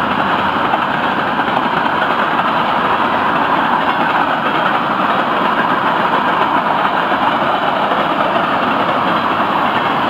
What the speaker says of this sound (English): Freight cars, you've got to love them.